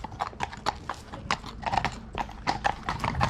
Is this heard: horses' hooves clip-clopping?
yes